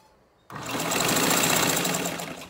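A sewing machine stitching fabric for a DIY medicine and pad holder, starting suddenly after a quiet moment and running in a fast, steady whirring rattle close by for about two seconds, with no talk.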